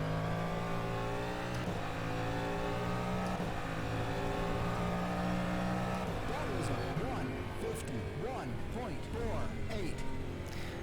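A Cadillac DPi race car's V8 engine roars steadily in the rFactor 2 racing sim, holding a loud sustained drone before revving up and down through gear changes, with a voice talking over it.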